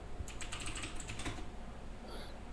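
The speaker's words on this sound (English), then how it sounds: "You're typing away." Rapid, light keystrokes on a computer keyboard, a quick cluster of clicks and taps up close that thins out toward the end, quiet and with no talk.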